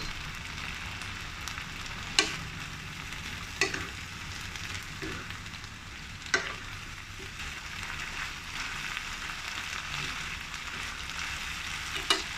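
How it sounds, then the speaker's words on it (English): Green beans stir-fry with garlic and dried shrimp in a hot wok, a steady close sizzle broken every couple of seconds by scraping strokes of the spatula, with no voices. "Stir fry for 2 to 3 minutes and test the doneness of the green beans."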